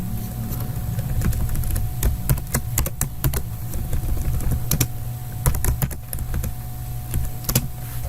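Rapid clicking keystrokes on a computer keyboard while code is typed, irregular bursts of sharp taps over a low steady hum, close and fairly loud, with no speech.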